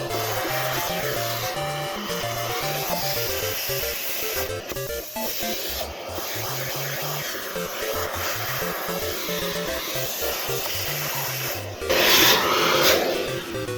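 A vacuum sucks up drilling debris inside an arcade cabinet during a swap from a 28mm Happ-style joystick to a 30mm Sanwa joystick. A steady airy whoosh runs under background music and surges louder near the end.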